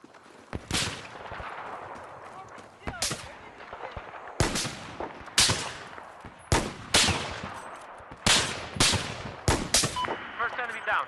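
Battlefield 4 gameplay with only sniper rifles and pistols: sharp, loud single gunshots come a few at a time at irregular intervals, some in quick pairs, over a faint background murmur.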